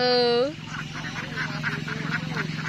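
A flock of farm-raised ducks, about three months old, quacks and honks continuously nearby, a loud steady chorus after a brief tonal squeal at the start.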